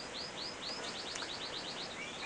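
Goldfinch mule hybrids and a Norwich canary in an indoor birdroom give a quick run of about a dozen thin, high chirps, fairly faint over a steady background hiss.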